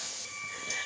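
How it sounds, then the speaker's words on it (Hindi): A pressure cooker whistle lets off steam while dal dhokla cooks, a steady loud hissing jet with a thin high whistle tone running through it for under a second. "मेरा कुकर सीटी मार चुका है।"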